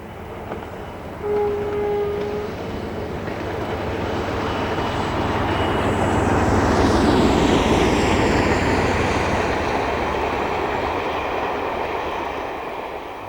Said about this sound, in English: 47829 returns with the 1705 Weymouth to Birmingham up the fearsome 1 in 52